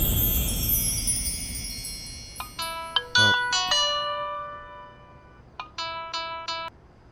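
A mobile phone ringtone plays a series of bright electronic melodic tones in short bursts, close and clear, with a pause before a final repeated phrase; no one speaks over it.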